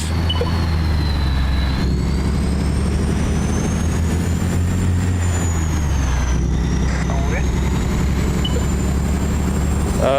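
Steady low truck engine drone in Euro Truck Simulator 2, a constant rumble with faint high whine running the whole time, loud and continuous while someone talks over it.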